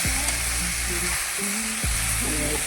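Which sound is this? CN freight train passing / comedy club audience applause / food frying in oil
food frying in oil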